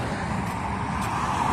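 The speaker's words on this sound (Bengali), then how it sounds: "দেখছেন কি সুন্দর নিরিবিলি গাড়ি চলতেছে" Cars drive calmly along a road in Sonapur, Dubai, a steady close rumble of engines and tyres on tarmac with traffic passing continuously and no horns or voices.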